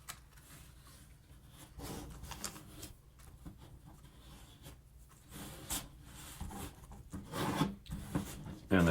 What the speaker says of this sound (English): First thing you do is fold it in half.